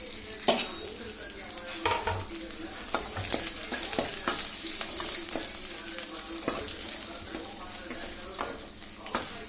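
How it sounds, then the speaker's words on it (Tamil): Chopped onions frying in hot oil for sambar, a steady bright sizzle with intermittent stirring clatters and scrapes of a spoon in the pan throughout. "எண்ணெய் நல்லா காஞ்சோடனே பார்த்திங்கன்னா நம்ம கட் பண்ணி வச்சுருங்க வெங்காயத்தை ஆட் பண்ணிக்கிறோம்."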